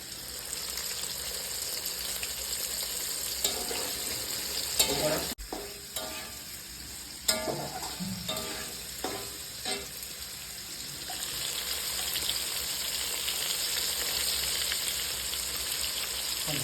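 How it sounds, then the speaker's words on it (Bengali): Steady sizzle of pointed gourd frying in a pan, with occasional clinks and scrapes from stirring breaking through the continuous hiss. "পটল ভাজা হচ্ছে"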